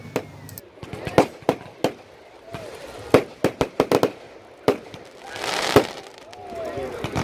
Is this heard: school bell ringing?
no